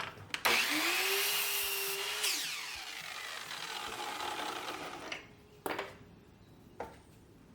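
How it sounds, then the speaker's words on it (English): A saw cuts the corner off a wooden fence picket at 30 degrees in one loud, close whine of about two seconds that spools down afterward, followed by a few sharp knocks and clunks as the wood is handled. "I'm going to line up my saw and go from the outside to that point at 30 degrees"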